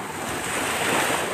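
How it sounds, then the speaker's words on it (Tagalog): Ocean surf rolling onto a beach in Zambales, a steady broadband wash of breaking waves with some wind rumble, loud and close with no talk over it. "Parang lumakas yung alon. No?"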